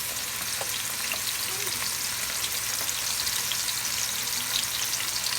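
Onions fry in hot oil in a pan for spicy fried spaghetti, a dense, constant close sizzle and hiss holding steady throughout, with faint background clatter and no speech.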